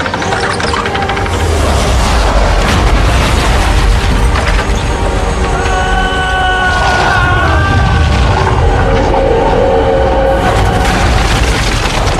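A bomb blast from the World of Warcraft video game, a dense sustained boom and rumble filling the whole stretch, with crashing debris and mechanical clatter layered over it alongside scattered tonal game sounds.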